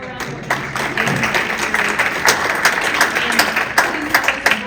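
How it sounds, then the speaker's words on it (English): A room of attendees applauds at the close of a food summit session, steady moderate clapping with scattered sharper claps, continuing evenly throughout at medium distance. "One more round of applause."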